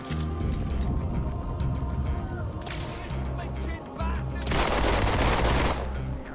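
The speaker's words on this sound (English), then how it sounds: "Can I dual wield, yeah, I can dual wield pistols" Dual-wielded pistols firing in Halo 2, with bursts of rapid shots crackling over continuous game music and effects, a louder volley of gunfire near the end.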